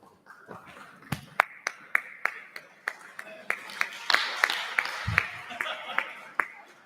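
Clapping during a Rosh Hashanah service, a slow, uneven run of single claps that picks up in pace, fairly faint with a murmuring voice underneath.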